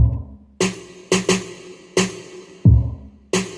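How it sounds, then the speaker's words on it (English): Bright, crackly unfiltered snare drum sample hits repeat in a loose beat pattern, with a couple of deep kick thumps between them; loud, close and harsh, with no talking. "And the snare opened up, sounds like this."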